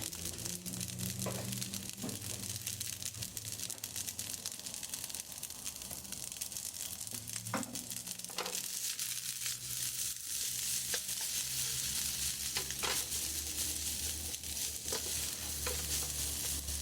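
A little butter sizzles and fries in a pan while making omelette rice, a soft, continuous crackle with intermittent scraping clicks of a utensil stirring against the pan.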